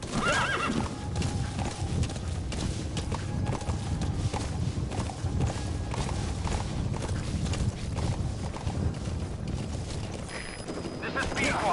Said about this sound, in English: Where is this stupid horse?